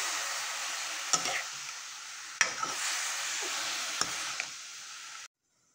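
Grated beetroot sizzling and being stirred in desi ghee in a kadhai, a steady close frying hiss broken by a few sharp scrape-like stirs, with no talking.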